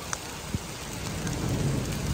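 Heavy rain pours down at Brunnensee lake, a dense, steady hiss of falling water broken by a couple of brief knocks, with no voices.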